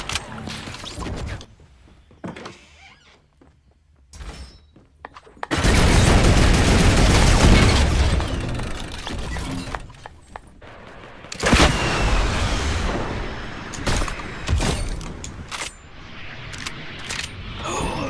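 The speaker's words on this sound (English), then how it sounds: "Someone else shooting you." Bursts of gunfire from another player in Fortnite Battle Royale, loud rapid volleys and booms in clusters with quiet gaps between, some scattered single shots and metallic pickups, with brief voices in between.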